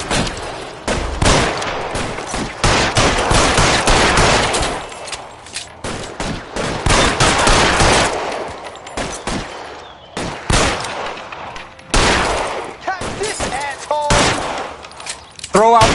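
Dense, rapid gunfire from a shootout in the video game L.A. Noire, sustained loud bursts and volleys across the whole stretch with a few brief gaps, voices shouting faintly beneath.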